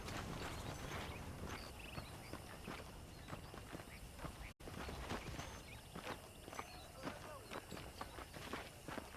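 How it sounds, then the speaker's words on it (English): Horses clip-clop steadily in Red Dead Redemption, their hooves making a quick rhythmic clatter that runs throughout, with faint speech audible in the background. "The horses are saddled up over here."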